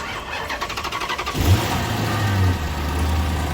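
A V8 Dodge Charger cranks with a rapid rhythmic starter chatter, then catches and settles into a loud, deep, steady idle rumble, close by with no talking.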